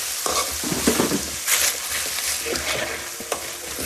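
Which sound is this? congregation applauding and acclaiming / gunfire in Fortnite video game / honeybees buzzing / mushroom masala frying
mushroom masala frying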